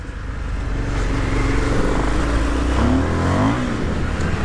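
Indian Motorcycle FTR 1200 engine revving, a loud close exhaust note climbing and falling through a couple of throttle blips over a steady rumble, no voices.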